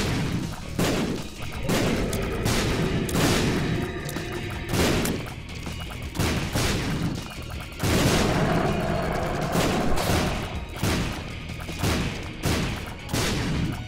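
Explosive ipecac shots in the dungeon game Binding of Isaac, repeated loud bursting booms roughly every second or so, each a broad crackling blast, continuing steadily throughout.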